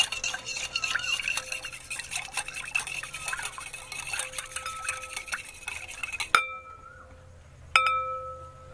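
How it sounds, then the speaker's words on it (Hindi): Ghee being stirred into wheat flour and semolina biscuit dough in a bowl, with dense, continuous scraping and clinking of utensil against bowl, then two sharp ringing clinks after it stops. "अब फिर इसको अच्छे से मिक्स कर लेते हैं"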